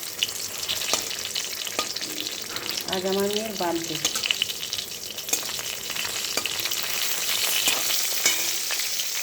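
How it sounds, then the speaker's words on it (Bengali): Bitter gourd and pointed gourd frying together in a home kitchen, a continuous close sizzle with stirring clatter, while someone speaks briefly over the cooking. "উচ্ছে পটল ভাজা হয়ে যাচ্ছে।"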